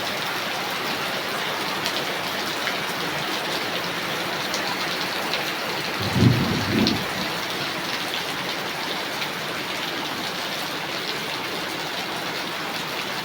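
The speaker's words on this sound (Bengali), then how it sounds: "এই চকমুখে দেখেন খালি পানি আর পানি বৃষ্টি।" Heavy monsoon rain pours steadily around a flooded rural home, a dense unbroken hiss throughout, with one brief low rumble near the middle like distant thunder.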